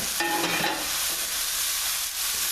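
Food sizzles and fries in a pan over a very high flame, a dense steady hiss with a few brief stirring scrapes near the start.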